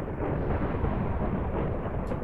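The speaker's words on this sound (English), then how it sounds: "Oh my gosh, that thunderstorm." Thunder from a thunderstorm in the Minecraft video game: a loud, continuous low rumble filling the whole moment, heard alone without talk.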